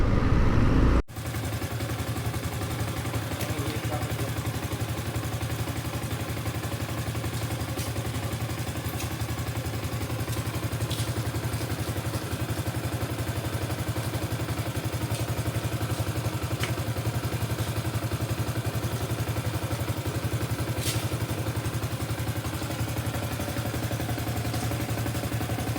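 A motorcycle engine idles steadily up close, a constant low rumble with light mechanical clatter throughout.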